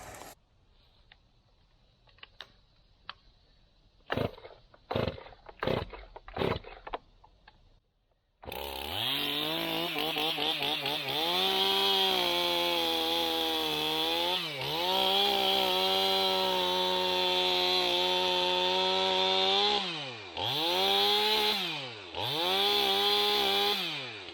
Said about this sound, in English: I'll probably just cut it. Let me cut it. I'm getting the chainsaw out anyway.